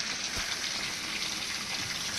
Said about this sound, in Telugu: ఇదిగో వాటర్ వస్తున్నాయి చూడు